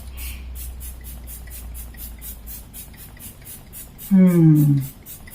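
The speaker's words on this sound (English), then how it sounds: "I'm using the L'Oreal Paris Infallible Mattifying All Day Matte Finish Setting Spray." L'Oreal Paris Infallible mattifying setting spray is misted once, a short loud hiss near the end after a quiet stretch of low room noise.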